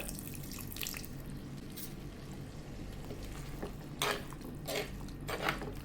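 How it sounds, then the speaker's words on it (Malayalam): Vinegar is poured into homemade lemon pickle, giving soft liquid splashes and drips that come in a few short bursts near the end over a quiet kitchen background. "ഇനി ഇതിലേക്ക് ഞാൻ ഒഴിച്ചു കൊടുക്കുന്നത് ഒരു മൂന്ന് ടേബിൾ സ്പൂണ് നമ്മുടെ വിനാഗിരി ഉണ്ടല്ലോ അതുകൂടെ ഒഴിച്ചു കൊടുക്കുകയാണ്"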